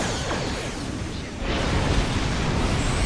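Starship weapons fire and explosions in the Star Trek Online video game during a battle with Klingon and Undine vessels, a dense, continuous roar of blasts and rumbling impacts that swells louder midway, with no voices.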